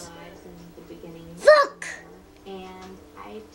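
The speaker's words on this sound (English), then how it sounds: "That's just how he sneezes." A pet gives a single odd sneeze that sounds like a short, squeaky hiccup, heard in the middle of a child and an adult chatting nearby.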